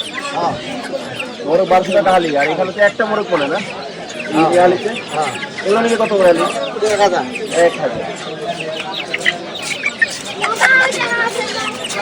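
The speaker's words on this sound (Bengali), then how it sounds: "মোরগ" Roosters and hens at a busy pet market in Savar cluck and call repeatedly and fairly close, mixed with overlapping human chatter and bargaining voices throughout.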